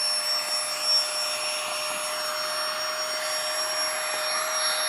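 A vacuum cleaner drones loud and steady as it draws the air out of a vacuum storage bag, a continuous whooshing hum with a faint high whine and no talk.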